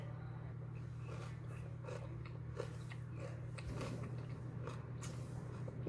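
Someone biting and chewing homemade rice crispy treats, soft crunchy bites and wet chewing close up over a steady low background hum.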